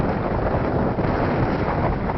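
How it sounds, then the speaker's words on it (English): Strong outdoor wind buffets the microphone at a shooting range, a loud, continuous low roaring rumble with no pauses and no voices. "This wind is really picking up, making longer range shooting just impossible"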